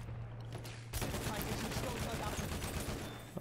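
Gunfire in the World War I shooter Battlefield 1, a sudden loud volley of crackling shots that keeps going in a dense, ragged stream, with talk faintly underneath.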